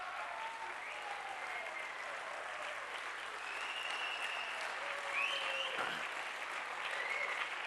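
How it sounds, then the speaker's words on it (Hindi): Audience applause at a motivational talk on visualization, a sustained, steady roar of many hands clapping that swells slightly toward the end, with a voice faintly over it. "Give a big clapping, give a big clapping, big clapping, big clapping."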